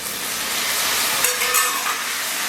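Tomatoes dropped into hot oil with sautéed onion and garlic for a wild mushroom curry, a loud continuous sizzle that flares briefly as they hit the pan, no voices.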